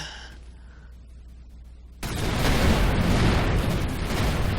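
In the space game Avorion, a spaceship fires a volley at a pirate ship. After about two seconds of near quiet, a sudden loud blast erupts and continues as a sustained roaring rumble.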